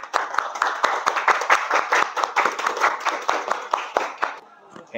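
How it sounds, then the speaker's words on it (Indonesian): Classmates give a round of applause for a student after his presentation, many hands clapping in a lively, fairly close burst that thins out and fades near the end. "tolong tepuk tangannya dong kepada Rafael."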